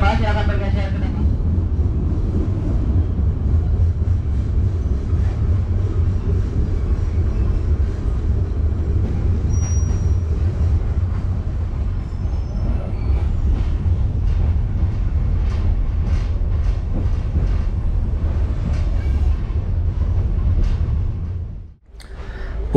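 A passenger train rolls into Merak station at the western tip of Java, heard from inside the carriage as a steady, loud low rumble and clatter that fades briefly near the end.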